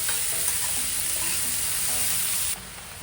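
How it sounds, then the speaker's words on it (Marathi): Chopped onion and green chili frying in a pan for paneer bhurji, a steady close sizzle with faint stirring, which drops in level near the end. "आपण याच्यामध्ये मिरची आणि कांदा टाकूया। कांदा आपण चांगला फ्राय करून घेऊया।"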